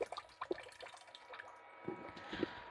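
Water drained from a cooking pot by tipping it without a colander, with faint irregular splashes and drips close by, and no voices.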